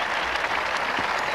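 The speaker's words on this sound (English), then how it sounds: "a warm ripple of applause for the save" Football crowd at a pre-Euro 1996 friendly between Bamber Bridge and the Czech Republic applauding a goalkeeper's save, a steady, moderately loud patter of clapping with no voices standing out.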